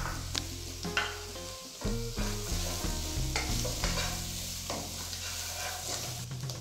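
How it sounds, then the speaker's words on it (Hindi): Cubed capsicum frying in a pan for chicken Manchurian, with a loud continuous sizzle broken by repeated utensil stirring and scraping knocks, close up and without talk. "अब इसमें शामिल करें 1 अदद शिमला मिर्च क्यूब्स में कटी हुई।"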